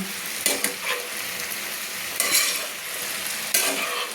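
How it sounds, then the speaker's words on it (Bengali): Spinach is stirred in a wok over a steady sizzle, with three distinct bursts of spatula scraping and tossing spaced a couple of seconds apart, close and clear. "পালং শাকগুলো সব আমি তুলে দিলাম দিয়ে আমি ভালো করে নেড়ে নিচ্ছি"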